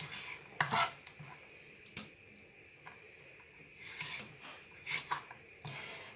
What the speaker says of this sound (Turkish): Domates kurularını şöyle ikiye böleceğim iri olanları 3'e 4'e böleceğim.